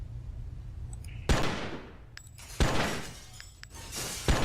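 Three sharp, loud shots from a TCTF auto pistol at target practice in the Oni video game, spaced over a second apart, each followed by shattering glass-like debris and a decaying tail over a low steady hum.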